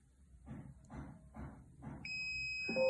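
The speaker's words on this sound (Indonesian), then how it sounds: "maka buzzer akan berbunyi dan LCD akan mengeluarkan gas bocor no api" A NodeMCU gas leak detector's buzzer cuts in with a steady, piercing tone after a few soft, rhythmic hissing puffs of gas released at the sensor, close and fairly quiet.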